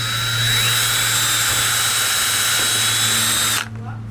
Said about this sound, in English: So now that we got the pilot hole drilled, an 1/8 inch